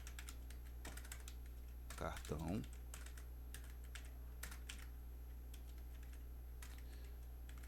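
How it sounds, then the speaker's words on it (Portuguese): Quiet keystrokes tap on a computer keyboard in scattered clicks over a steady low hum, with a brief murmur of voice partway through. "e agora digitar aqui, ó, cartão"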